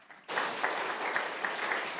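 A church congregation bursts into applause after a brief quiet moment, sustained dense clapping from a crowd filling the room steadily to the end.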